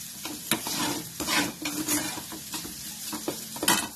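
Sesame seeds and an aloo poha mixture roast in a pan on the stove. A spoon stirs and scrapes across the pan in irregular close-up strokes over a soft, steady sizzle.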